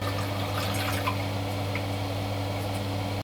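Fifty milliliters of water being poured into a 1000 ml flask fitted with a reflux condenser in a chemistry lab, a steady close trickling wash under a low constant hum.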